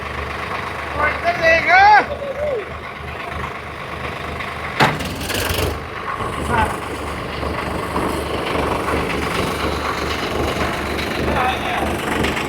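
Two Swaraj 855 tractors, a Protek and an older model, run side by side in first high gear with 4x4 engaged near 1000 rpm. Their low, steady engine drone plays under loud continuous talking, with a sharp knock partway through.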